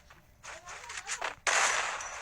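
Gunfire in the Free Fire video game: bursts of rapid shots, then a sustained loud blast of firing toward the end.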